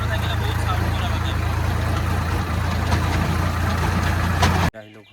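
An Ace tractor engine idles with a steady low rumbling throb for several seconds, close and continuous, before cutting off abruptly into near quiet at the end.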